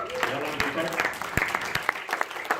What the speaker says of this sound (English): Deepak, round of applause.